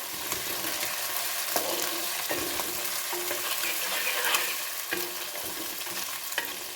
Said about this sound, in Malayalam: ഇനി നമുക്ക് പച്ചമുളക് ഇടാം. നന്നായിട്ടൊന്ന് വഴറ്റാം.